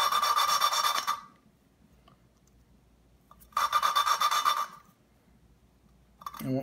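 Coarse rasping grind of an engine valve face being lapped against its seat, two bursts of steady back-and-forth rubbing about a second long, separated by near-silence with faint scraping, close up.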